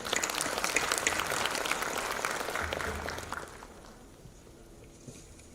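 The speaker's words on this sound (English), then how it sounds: "let's welcome him with a huge round of applause" Audience applause greets a guest speaker at a formal symposium on seafarers' recruitment and welfare, a dense wash of clapping that holds steady for about three seconds, then fades quickly to quiet room tone.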